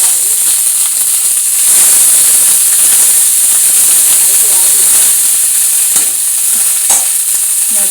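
A tomato roasts in a hot pan, giving a loud, steady sizzle and hiss with bursts of spattering and a few sharp pops, close and continuous throughout.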